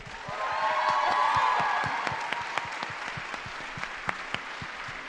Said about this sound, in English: a round of applause for Lia Block